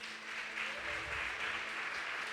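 Church congregation applauding during a service, a steady wash of clapping from many hands that holds fairly even for a couple of seconds, moderately distant in a large room.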